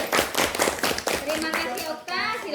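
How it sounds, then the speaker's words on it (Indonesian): Group of children clapping hands for a group in a classroom coaching session, a quick burst of claps with children's voices and chatter mixed in. "kita kasih plus tepuk tangan untuk kelompok 1"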